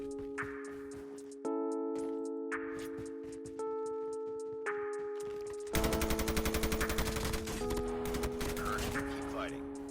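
Video game gunfire during a battle-royale match, rapid automatic bursts layered over steady tonal game music, with a dense continuous volley in the second half.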